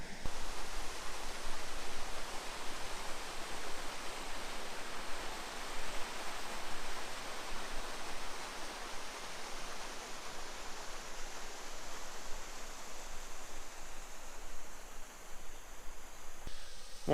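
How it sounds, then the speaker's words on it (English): A waterfall at a wild camp beside Davidson's Linn pours steadily, a dense, even wash of flowing water that holds at the same loud level throughout with no voices. "next to that waterfall, just the sound of the flowing water through the night there"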